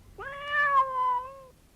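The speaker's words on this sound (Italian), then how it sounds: "la bimba sentì nel vicolo un pietoso miagolio" A fat cat in a dark alley gives one long, pitiful, drawn-out meow, clear and fairly close, with nothing else around it.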